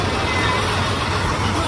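A road vehicle heading to a village makes a steady, loud engine and road rumble, with people talking over it.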